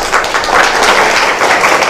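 A crowd claps loudly at a Samajwadi Party rally in Umarkhed, producing a thick, rushing patter of many hands that swells slightly and holds for a couple of seconds, with no speech over it.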